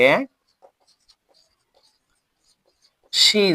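A sentence being written on a board, heard as faint, scattered scratchy marker or chalk strokes in a quiet pause, with a teacher speaking just before and after.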